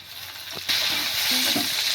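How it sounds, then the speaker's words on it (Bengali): Chopped tomato drops into onions frying in a pan for a potato, pointed gourd and fish curry, with a sudden louder burst of sizzling after a moment of quieter frying, then a steady close hiss with light stirring scrapes. "এবার আমি দিয়ে দেব টমেটো কুচি।"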